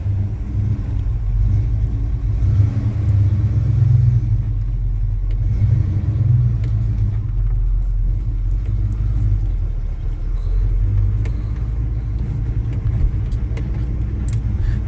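A 1966 Chevy C10 pickup's engine idles and runs steadily while the truck backs up, a continuous low rumble with slight swells in the throttle and faint jangling throughout.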